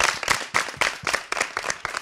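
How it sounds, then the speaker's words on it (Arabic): Quick rhythmic applause for the group Sama at an Arabs Got Talent live show, several hands clapping briskly and close in a short burst. "فزقفه كبيره كبيره كبيره كبيره لفرقه سما"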